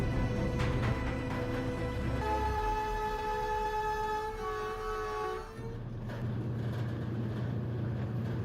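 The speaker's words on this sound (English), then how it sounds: "a massive train is charging toward them with unstoppable force" A massive train blares its horn as it charges down the tracks toward cattle, a loud sustained multi-tone blast over deep rolling rumble that cuts off, leaving the heavy roar of the train.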